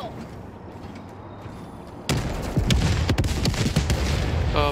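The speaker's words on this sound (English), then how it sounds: "I like destroying the fabricators more than the bug holes, too, because the explosion is bigger" A fabricator blows up in the Helldivers 2 video game with a sudden loud boom, followed by a dense rumble and crackling debris that lasts several seconds.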